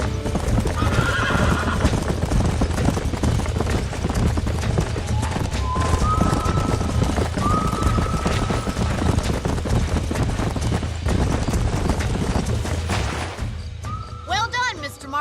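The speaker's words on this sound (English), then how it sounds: "These are fine horses." Horses neigh and whinny while hooves clip-clop steadily in the western game Red Dead Redemption, with several rising whinnies over continuous loud hoofbeats and some talking underneath.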